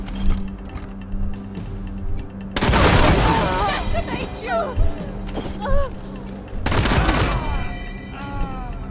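Shotgun blasts and bursts of gunfire in the video game Wasteland 3 erupt in two loud, dense volleys with booming reports, while someone talks between and over them.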